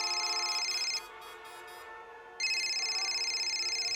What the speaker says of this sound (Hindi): लो, बीवी का फोन है।